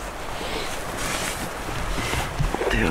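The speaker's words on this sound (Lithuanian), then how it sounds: "dabar dar tikriausiai girdit vėjas stūgauja" Wind buffets a forest campsite in the morning, a continuous rushing roar with gusty surges and rumble against the microphone, with faint rustling movement nearby.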